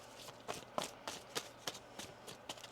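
Tarot cards being shuffled by hand at close range, a quiet series of soft riffling slaps and flutters in an irregular rhythm with no talking.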